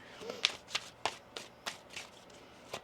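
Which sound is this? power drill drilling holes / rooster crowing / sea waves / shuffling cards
shuffling cards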